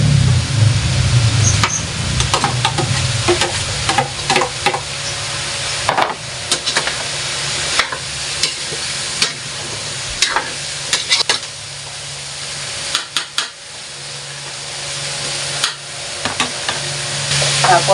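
Carrots and chayote go into a hot pan for Filipino chopsuey, a strong steady sizzle with frequent stirring clanks and scrapes of a spatula, loud and close throughout.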